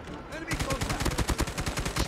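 Rapid automatic gunfire from a chopper gunner helicopter in Call of Duty Mobile's Ground War mode, a steady rattling burst of closely spaced shots that starts abruptly and runs on loud and continuous.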